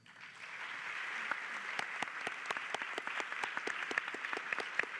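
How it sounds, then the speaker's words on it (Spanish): An audience at a round-table event breaks into applause that swells quickly from silence into steady, even clapping, with a few sharper individual claps standing out. "Quiero pedirle también al estimable auditorio un aplauso para Radio Educación"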